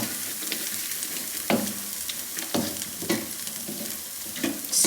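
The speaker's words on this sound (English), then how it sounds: "Stir that in." Prawns being stirred into a coconut curry in a pan, a constant close sizzle punctuated by several distinct spoon knocks and scrapes spaced about a second apart, with no talking.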